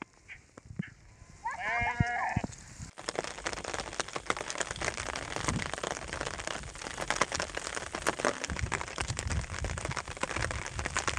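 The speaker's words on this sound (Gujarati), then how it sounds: "બકરા બવડી ખાવા નીકળ્યા છે" Goats and sheep out grazing in the Gir forest during the rainy season, with one clear close bleat near the start, then a continuous wash of rain-like patter and rustling outdoor noise, faint and steady.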